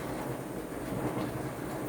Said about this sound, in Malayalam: വെള്ളം തിളച്ച് വരുന്നുണ്ട്.